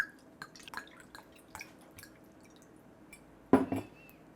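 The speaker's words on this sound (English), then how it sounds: "And finally, some water, but we're gonna add a little at a time." Water poured into a bowl of dry samosa dough mixture, small drips and splashes scattered through the quiet, then a brief louder splash near the end.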